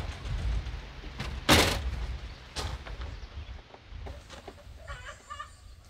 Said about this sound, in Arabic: شكله يا في بيضة يا في دجاجة عم بتبيض.